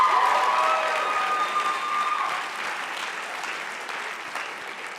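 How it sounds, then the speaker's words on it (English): Audience applause at a closing ceremony, a dense, steady wash of clapping that starts loud and slowly thins and fades over about five seconds, with no voices over it. "Let's give another round of applause for her,"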